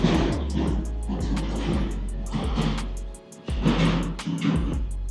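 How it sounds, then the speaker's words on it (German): Street traffic flowing past in Germany, cars passing one after another with steady engine and tyre rumble that swells and fades, fairly loud and continuous with a brief lull midway. "um zu gucken, wie viel Verkehr hier so durchfließt"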